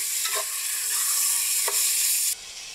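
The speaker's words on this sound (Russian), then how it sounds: "И закидываем мясцо. Надо обжарить до полуготовности." Pork pieces fry in a pan with a steady broadband sizzle, broken by two sharp clacks of a utensil stirring the meat, close and fairly loud, with the hiss dropping away near the end.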